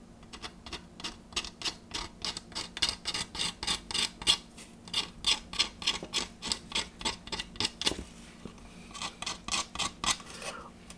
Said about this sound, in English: a little bit of scraping should sort that out